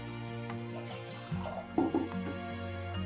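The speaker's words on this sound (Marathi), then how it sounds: "मी हा जो 250 ml कप आहे त्याने हे पाणी मोजून घेते 2 कप." Water measured with a 250 ml cup and poured into a pan for kala jamun syrup, giving a few drips and splashing glugs over a steady low hum.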